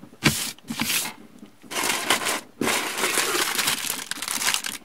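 A plastic package holding parts for a DeAgostini UAZ-469 1/8 scale model kit is crinkled and torn open up close, making loud, busy rustling in bursts with brief pauses.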